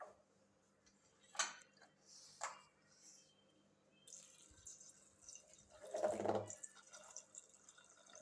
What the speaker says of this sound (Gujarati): આપણે વટાણા ડૂબે એટલું આપણે એમાં પાણી નાખવાનું છે